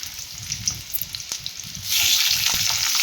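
Tomatoes, garlic and ginger sizzling in hot oil in a pan for a masala curry, with steady close frying crackle and stirring that grows louder partway through.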